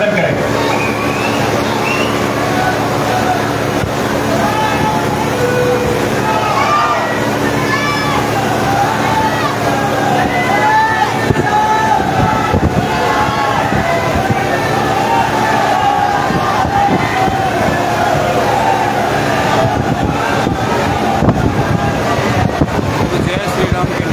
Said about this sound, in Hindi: जय श्री राम के नारे जनता लगा रही है जोर जोर से।